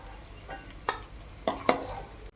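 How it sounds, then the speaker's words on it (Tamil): Boiled eggs frying in oil over a low flame, a soft steady sizzle with a few sharp scraping stirs and light clinks of a utensil against the pan, nearby and fairly quiet. "சிம்மில் வச்சு அப்படியே வறுத்து எடுத்துக்கோங்க"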